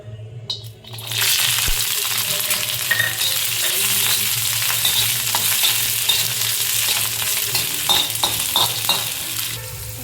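Ginger and garlic fry in hot oil for a spicy chicken gravy, giving a loud, steady sizzle that starts abruptly after a brief quiet moment and keeps crackling for about nine seconds, with faint stirring clicks of a utensil scattered through it.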